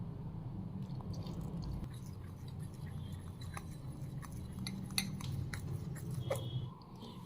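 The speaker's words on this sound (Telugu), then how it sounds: "ఇప్పుడు కొంచెంగా నీళ్లు పోస్తూ కలుపుకుందాం." Spiced peanut pakoda batter being stirred by hand with water poured in, giving soft wet squishing and sticky mixing sounds with small clicks, close and fairly quiet, with no talking.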